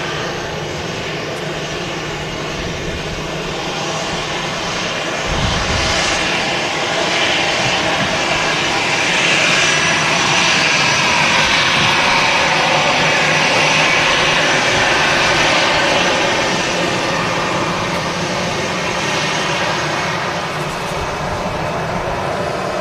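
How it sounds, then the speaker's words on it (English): A Gulf Air Boeing Dreamliner in retro livery departs Manchester Airport, its jet engines a loud, sustained broadband roar that swells gently and then eases slightly as it climbs away, with no voices. "We're going to say goodbye to the beautiful Gulf Retro Dreamliner. Heading back to home in Bahrain."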